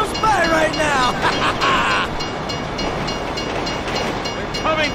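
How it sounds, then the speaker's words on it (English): Train rolling past in the video game GTA 5, a steady rumbling rattle of rail cars with rising whistle-like tones early on, while a person talks over it. "If you were local, you'd know the train comes by right now."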